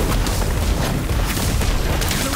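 A bomb explosion spell goes off in the Harry Potter Magic Awakened video game, heard as a loud, dense, continuous rumbling blast that fills the whole stretch, with no talk over it.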